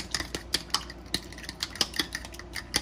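Two eggs whisked in a bowl for a fish coating, an irregular run of light clinks and taps of utensil against the bowl, close and fairly quiet with no talking.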